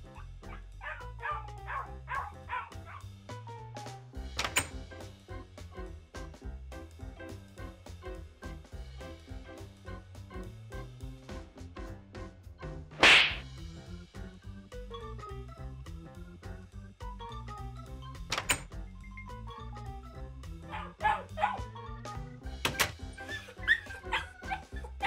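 A puppy in the Minecraft video game barks and yips repeatedly, with whimpering cries in between, fairly close and continuing throughout over a soft musical background.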